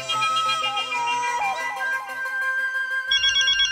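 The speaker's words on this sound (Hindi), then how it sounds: "वो बार बार उनके फोन की घंटी बजेगी ना" A telephone ringtone plays continuously in a Hindi comedy scene, a bright melodic electronic tone that repeats steadily and stays loud, with a higher chirping tone layered in near the end and no talking over it.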